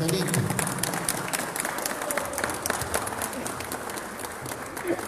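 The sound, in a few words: crowd applauding at procession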